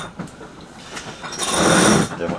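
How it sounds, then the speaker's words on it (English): A sewing machine stitches a split in a sailboat's jib sail, a short rapid mechanical whirring burst rising in the second half after quieter handling noises. "the most important job we had to do was to sew up our jib"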